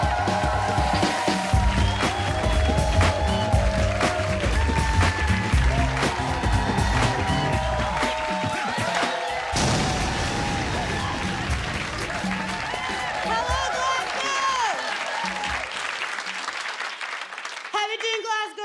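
A comedy club audience in Glasgow applauds and cheers loudly and steadily for an act coming onstage, the dense clapping and whoops running throughout, with music and a voice blended into the crowd noise.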